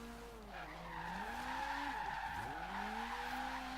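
A drift car in the Forza Horizon 3 racing game slides through corners with sustained tire squeal over a droning engine whose pitch rises and dips with throttle, steady and close for the whole stretch, no talking.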